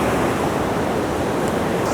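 Steady surf rolls and washes continuously on a beach, mixed with gusty wind buffeting the microphone; a broad, constant roar with no voices.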